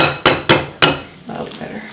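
Three sharp cracks land in quick succession as eggs are tapped against a bowl for a grain-free pizza crust, followed by a softer wet rustle, close and loud with nothing else around.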